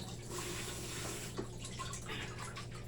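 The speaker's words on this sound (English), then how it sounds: "drain the vegetables" Water drains from cooked vegetables in a kitchen with a soft, steady pouring and trickling under a low hum of background noise, fairly quiet and with no talking.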